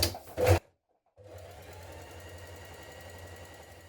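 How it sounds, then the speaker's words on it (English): A sewing machine stay stitches the top of trouser front and back pieces one centimetre from the raw edge, running as a steady, even mechanical whir after a brief clatter and a short pause. "Next we're going to stay stitch the front and the back pieces at the top."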